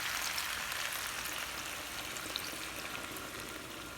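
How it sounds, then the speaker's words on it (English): Water poured into a potato and leek soup in a Le Creuset 5 qt braiser, producing a soft, steady sizzling hiss that stays even and fairly quiet throughout. "Now I'm going to add the 4 cups of water."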